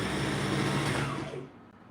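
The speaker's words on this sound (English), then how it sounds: "So I'm about to sew both sides down" A sewing machine stitches down both sides of a jilbab in a steady, dense mechanical whir that runs loud for over a second, then tapers off and stops near the end.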